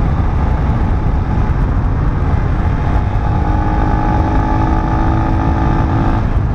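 An AKT TTR 200 motorcycle rides along a road, its engine droning loudly and steadily under heavy wind rush, with a faint tonal whine rising partway through.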